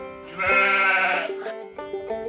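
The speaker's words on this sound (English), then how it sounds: "Sheep." A single sheep gives one drawn-out, wavering bleat, close and clear, followed by a shorter second call.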